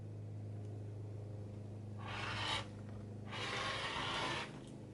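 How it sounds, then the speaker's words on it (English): Scissors or a rotary cutter trimming the uneven bottom edge of fat-quarter cotton fabric for a small tote bag, two short bursts of crisp cutting noise, close and fairly quiet. "I'm going to trim off some of the unevenness from the bottom edge as well"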